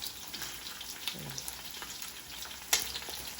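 Beef for chopsuey frying in a pan sizzles faintly and steadily, with soft crackles and a sharper pop near the end.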